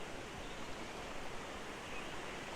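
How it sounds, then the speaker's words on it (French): A succession of small waterfalls on a torrent at the Cascade des Tufs in the Jura, a constant broadband rush of falling water, steady and even with no other sounds. "Encore ici une succession de petites cascatelles."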